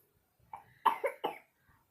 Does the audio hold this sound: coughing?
yes